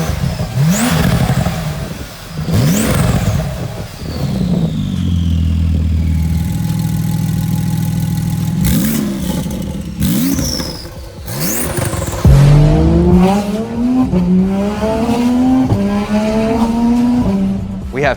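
A Porsche fitted with an aftermarket exhaust revs hard in loud, rising pulls, with sharp throttle blips and repeated climbing engine notes close by, plus a brief squeal near the end.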